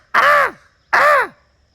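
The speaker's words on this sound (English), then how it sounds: "I'm just going to call it a morning crow, though." A crow at a Florida ranch gives two loud, harsh caws about three-quarters of a second apart, each clear and close against a quiet background.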